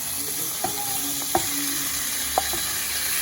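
Chicken fajitas sizzle in melted butter in a pan, a steady broadband hiss with a few sharp utensil clicks and stirring taps over it, close and moderately loud, with no voices.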